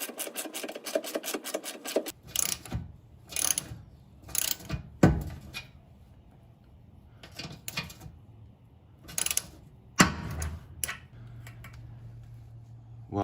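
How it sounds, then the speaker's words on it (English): A loud, sharp snap from inside a Jeep Wrangler frame as a nut weld breaks loose while rear bumper bolts go in, standing out among scattered clicks and ratcheting mechanical sounds. "is the weld on the nut inside the frame breaking loose"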